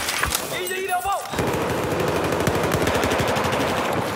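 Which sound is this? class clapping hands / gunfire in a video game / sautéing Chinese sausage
gunfire in a video game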